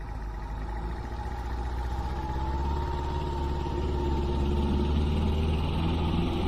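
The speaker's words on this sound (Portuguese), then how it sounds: "esse som aí é bastante conhecido, né? É de um barco, ou também chamado barco de linha, né?" A regional passenger riverboat's engine drones in a steady, loud, low rumble with a constant mechanical hum, slowly swelling in volume as the boat passes close by.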